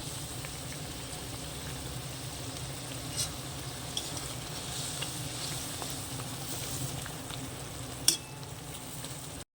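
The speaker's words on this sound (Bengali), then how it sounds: "এবার আমি ভেজে রাখা বেগুনগুলো দিয়ে দেব এক এক করে দিয়ে দেব সব" Fried eggplant pieces go into a simmering gravy for an eggplant curry. A constant low sizzle and bubble continues close by, with a couple of faint clinks along the way.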